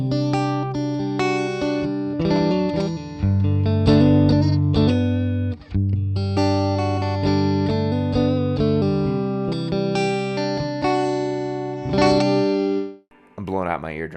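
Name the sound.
electric guitar through 1966 Fender Deluxe Reverb blackface amp, gritty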